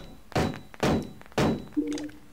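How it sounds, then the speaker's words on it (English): Three heavy thunks fall at roughly even intervals as rocket gnomes launch in the video game The Sims Bustin' Out, followed by a short rising whoosh-like tone. "Rocket gnome away!"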